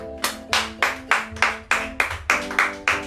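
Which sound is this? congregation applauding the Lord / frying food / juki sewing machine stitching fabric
congregation applauding the Lord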